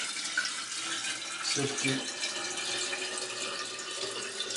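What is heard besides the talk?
pouring boiled, cooled water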